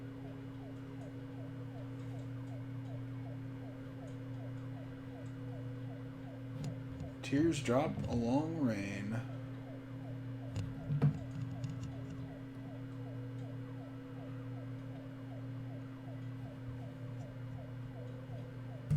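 In the video game Troubleshooter, an ambulance siren briefly wails with rising and falling pitch midway through, under steady game music while a voice speaks.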